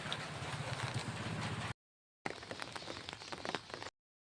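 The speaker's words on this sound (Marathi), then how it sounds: "तर संपूर्ण पाऊस येत आहे." Rain falling on a farm where buffaloes are kept, heard by someone holding an umbrella: a close, faint patter of drops in two bursts separated by a brief silence.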